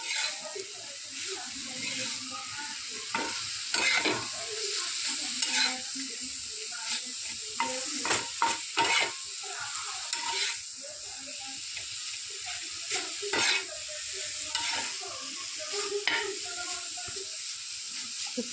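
Brinjal bharit masala with turmeric, red chilli powder and crushed whole dried red chillies, stirred in a hot pan, gives a constant hiss of frying with repeated scraping spoon strokes and light clinks, close by and without any speech.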